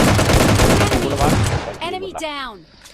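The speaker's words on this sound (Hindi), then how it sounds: "यहाँ बंदों की फुटस्टेप आई और ये मेरे को गोलियां मारी" Gunfire in PUBG Lite: a dense, loud burst of rapid shots for about a second and a half, then a break where a voice speaks over fainter game sounds.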